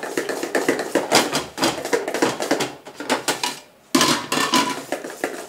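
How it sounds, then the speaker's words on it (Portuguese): Banana cake batter beaten fast by hand in a bowl, a loud run of rapid clattering strokes that stop briefly near the end, then resume. "agora eu vou batendo assim"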